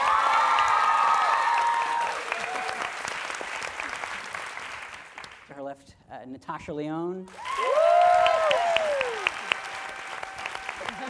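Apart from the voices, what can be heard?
audience applause for the cast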